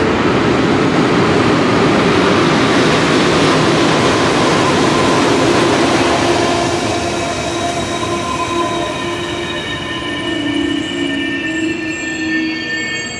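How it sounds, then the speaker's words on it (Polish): An EP07 locomotive hauling a TLK passenger train arrives at a station, with a loud, continuous rumble of wagons and high wheel squeals that fade slowly as the train slows. "Mamy wjazd EP07 1034 TLK Jeziorak."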